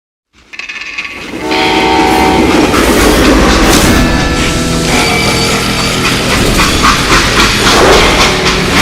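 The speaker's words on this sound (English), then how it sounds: "They hopped a freight train having heard there was a big payroll in the express safe." A freight train in the video game Call of Juarez: Gunslinger rumbles in loudly after a quiet start, its horn sounding over clattering wheels and heavy rolling noise that stays close and dense throughout.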